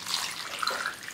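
Water pours steadily into a container with a bright splashing trickle, close and continuous.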